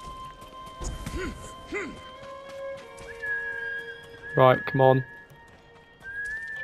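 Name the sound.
horse neighing and hooves in video game Ghost of Tsushima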